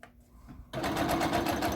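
A sewing machine stitches a fabric lining for a book sleeve or tablet cover, about an eighth of an inch from the edge. After a quiet pause it starts abruptly and runs in a fast, steady, close-up whir.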